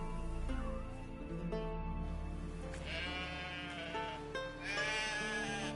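Sheep in the video game Witcher 3 bleat several times, wavering calls close by over a sustained musical drone, with no talk.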